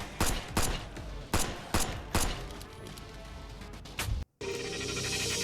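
Sharp gunshots from the VR shooting game Power Force crack out in uneven bursts, about ten distinct shots over a busy game background, followed by a short silence and a steady electronic hum.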